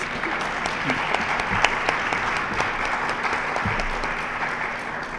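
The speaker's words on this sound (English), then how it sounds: "Let's give them a big round of applause." Applause from an audience at a League of Women Voters event at a racetrack, a steady, moderately loud patter of many hands with a low hum underneath and no talking.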